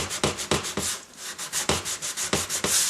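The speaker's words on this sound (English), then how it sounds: "It's important that you use this little Bondo spreader because it keeps the sandpaper flat against the surface" Sandpaper held flat on a small Bondo spreader rubs across a molded seam during paint prep, a close, brisk run of rhythmic back-and-forth scrapes with a brief pause midway and no voices.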